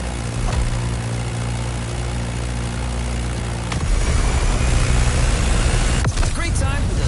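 Staggerwing biplane in the game The Crew Motorfest, its propeller engine droning loudly and steadily, the pitch shifting midway, with a voice speaking near the end.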